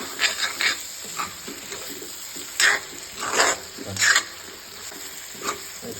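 Sesame seeds frying with chicken in a pan, a soft sizzle broken by a few louder hissing, scraping bursts as the mix is stirred, close and fairly quiet.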